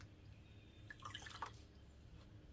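Water dripping and trickling from a squeezed plastic cup in a small homemade hydroponics setup, a brief cluster of small splashes in the middle of a faint, steady background hum.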